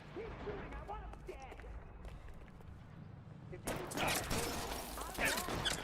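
Gunfire bursts in a video game, sparse at first and then swelling into a loud volley, with someone speaking beneath the shots.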